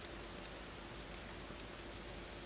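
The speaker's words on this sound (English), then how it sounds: "Just flares down this lava rain, this fire rain, and scorches the ground." Fiery lava rain from an ability in the video game SMITE, a steady dense rain-like hiss and crackle that holds evenly loud throughout with no talking.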